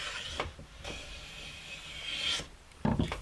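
Hand plane shaving a thin curl off wood while making a dovetailed tray, soft close rasping strokes, one short swipe then longer hissing passes, with no talking.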